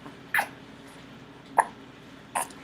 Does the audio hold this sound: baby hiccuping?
yes